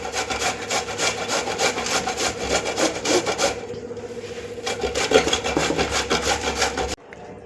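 Bottle gourd is rubbed against a grater for muthiya in rapid rhythmic rasping strokes, close and fairly loud, with a short pause midway before the scraping resumes.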